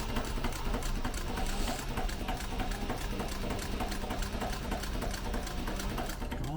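A sewing machine stitching the side of a duffel bag runs steadily and continuously at close range with a rapid, even mechanical rhythm and no pauses.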